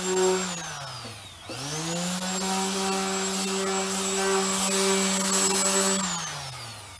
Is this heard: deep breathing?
no